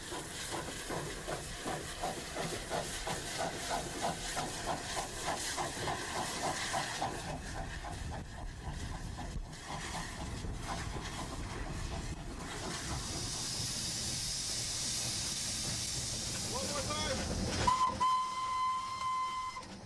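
A steam locomotive on a Scottish heritage railway hisses and chuffs steadily, then a sharp steam whistle blows near the end, loud and close over constant background noise.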